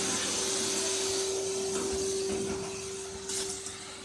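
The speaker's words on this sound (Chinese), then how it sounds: "我们就能听见吸尘器在工作。" A vacuum cleaner at a self-service car wash runs with a steady, loud mechanical drone and a constant hum. Faint rustling sounds near the end, and no one speaks.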